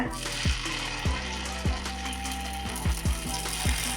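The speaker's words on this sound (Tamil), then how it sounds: "எண்ணெய் சூடானது இட்லி மாவை எடுத்து இதில் 1/4 மட்டும் ஊற்றிக்கங்க." Idli batter sizzles in hot oil in the cups of a kuzhi paniyaram pan, a steady frying crackle with repeated sharp clinks and scrapes from the pan at regular intervals, fairly close, with no talk.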